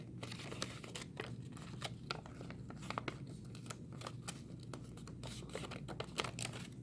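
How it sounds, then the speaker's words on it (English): Paper being folded along a solid line for a school craft, with soft crinkling, creasing and tearing-like rustles in short bursts throughout, close and fairly quiet. "Okay, I take this one and fold it on the solid line."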